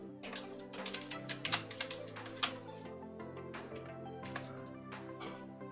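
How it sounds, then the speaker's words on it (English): Someone types a password on a computer keyboard: light, irregular clicks and taps that cluster in short bursts, set against steady background music with no talking. "type in your password"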